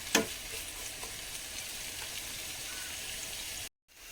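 Onions sautéing in a hot pan for chicken biryani give a steady, soft sizzle with a brief stir clatter at the start. The sizzle stops abruptly near the end.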